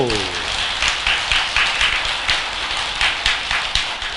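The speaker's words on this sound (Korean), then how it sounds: "이런 때는 박수도 치고 그런 거요." Audience clapping during a Buddha's Birthday dharma talk at a Buddhist temple, a steady wash of applause with a few louder distinct claps, following a voice that trails off at the start.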